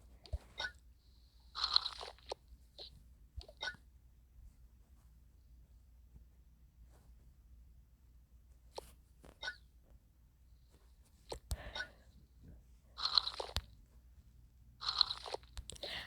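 Crunchy snacks are bitten and chewed at an outdoor picnic in scattered bursts of close crisp crunching, with long quiet gaps between bites.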